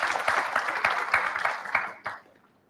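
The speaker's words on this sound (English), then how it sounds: "So can we give a round of clap to all of us?" Applause from an audience at the close of a malaria oral presentation session, a dense burst of clapping that holds steady, then tapers off quickly into near silence.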